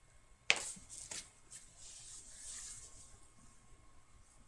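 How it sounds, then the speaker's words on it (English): Scissors snip through paper while fussy cutting small paper flowers for a scrapbook layout, with two sharp close cuts followed by soft rustling and faint handling noise in a quiet room. "I'm going to fussy cut some little flowers for up above on the right."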